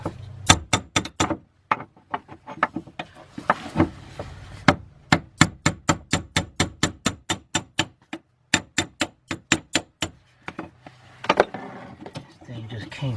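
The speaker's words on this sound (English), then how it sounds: "Then we're gonna get our hammer and tighten this back up." A hammer strikes the fuel pump lock ring of a BMW 328i over and over, tightening it. The sharp metallic taps come close and loud, mostly in quick runs with short pauses between them.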